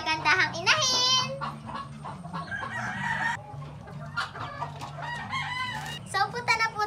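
Hens and a rooster on a farm, with repeated clucking and a crow near the start over a steady low hum. A faint voice is heard at times.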